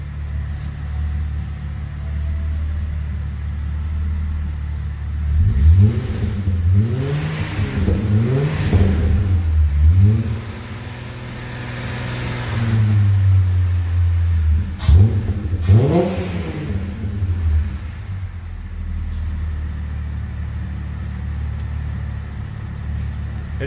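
Holden VY Crewman two-wheel-drive ute with an aftermarket exhaust, idling and then revved hard in two separate bursts, each climbing and falling back to a low, steady idle, recorded close up.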